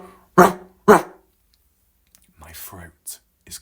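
A person imitates a dog with short voiced growls and barks in close, quiet surroundings: two loud bursts, then a pause, and after it a few softer vocal grunts.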